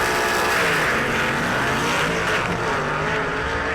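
Hot rod cars at a drag race, a dense sustained roar of engines with a broad, loud, steady wash of motor noise and no voices.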